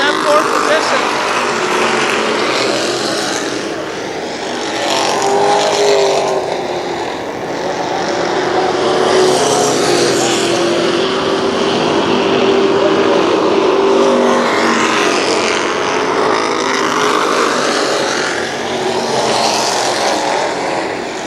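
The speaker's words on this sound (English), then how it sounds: "Your top 4 cars are nose to tail on the track" Several race cars run nose to tail around the Kil Kare Speedway track at the 1994 Memorial Day Championships, their loud engines swelling and fading in long waves as they pass, while an announcer talks over the roar.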